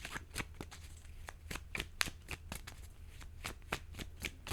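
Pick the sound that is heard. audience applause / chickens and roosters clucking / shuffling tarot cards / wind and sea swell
shuffling tarot cards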